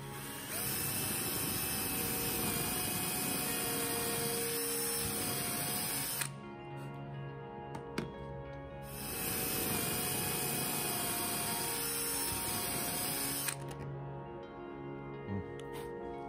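A small power drill bores into the deck of a Hallberg-Rassy 312 sailboat in two steady whirring runs of about six seconds each, separated by a short pause with faint clicks.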